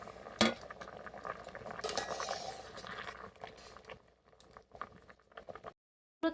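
Boiled raw mangoes lifted out of water with a large metal slotted spoon, giving clinking metal scrapes against the pot and soft watery splashes and drips, fairly quiet and close.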